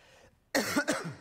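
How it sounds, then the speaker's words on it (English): A single loud cough bursts out after a brief quiet pause, close and sharp, following faint background noise in an indoor presentation setting. "Oh, that's loud when I cough"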